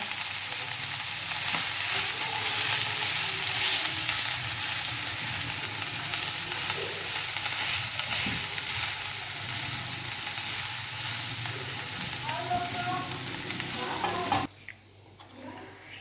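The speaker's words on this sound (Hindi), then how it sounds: "आलू हमने पीस लिए थे, उनको मैश किया था, वो डालेंगे। और हमने इनको अच्छी तरह मिक्स करना है।" Fried ingredients and mashed potato for kachori stuffing are mixed in a hot pan, giving a continuous loud close sizzle with soft stirring scrapes that drops away suddenly near the end.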